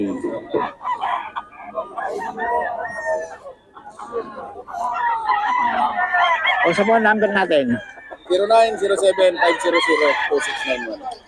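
Roosters crow loudly and repeatedly while chickens cluck around them at a market in Bocaue, with someone talking over the birds throughout.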